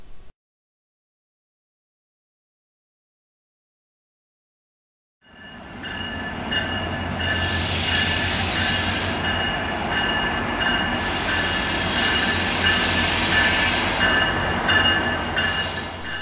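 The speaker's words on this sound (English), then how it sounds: "Here's an eastbound GO train pulling in." An eastbound GO Transit train led by an MP40PH-3C diesel locomotive pulls into a Toronto station: after about five seconds of silence, a loud, steady rumble of engine and rolling cars builds and holds, with bright hissing surges and faint wheel squeal.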